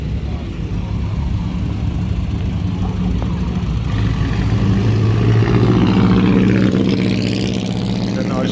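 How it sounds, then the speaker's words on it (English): Classic cars gathering for the start of the Mille Miglia 2023 road race, their engines a continuous low idling rumble with a gradual swell as one draws nearer, under some talk. "The noise of some cars is absolutely stunning"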